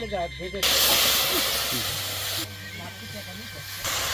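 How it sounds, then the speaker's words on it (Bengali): Spice paste hitting a hot pan, a sudden loud hissing sizzle that starts after a voice, holds steady, then dips and rises again near its end. "এবার মশলা বাটা দিয়ে দেবো"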